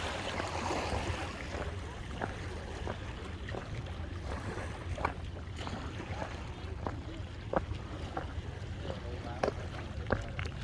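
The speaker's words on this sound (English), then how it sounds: "Water coming up." Harbor water washes and laps against the Rockland Breakwater in Maine, a steady broadband wash with wind across the microphone and scattered small splashes and knocks.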